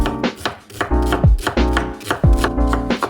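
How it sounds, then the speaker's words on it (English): Kitchen knife chopping onions on a cutting board, close and loud, a fast steady run of sharp strikes with a few slightly heavier chops mixed in. "Cut up some onions."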